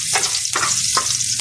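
Garlic fries in a pan with a steady, close, bright sizzle and a few soft pulses where it gets stirred. No one speaks.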